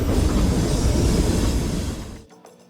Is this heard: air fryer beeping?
no